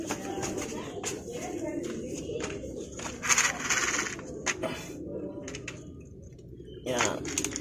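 Domestic pigeons at their loft feed and coo, with soft pecking and tapping clicks scattered through and a few brighter bursts, while someone talks intermittently nearby.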